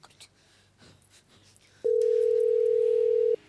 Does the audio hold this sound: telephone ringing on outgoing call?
yes